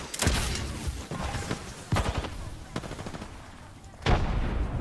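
Gunfire in the video game Apex Legends crackles in repeated loud bursts, some rapid automatic strings and some single heavy shots, spread across the moment with little talk.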